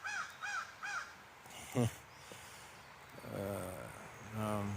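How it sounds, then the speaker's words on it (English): Crows caw repeatedly around a tent on the ground at about 6:15 on a Tuesday morning during a long-distance trail hike, with three clear calls at the start, then a snorting sound and a steady outdoor background. "The birds are surrounding my tent."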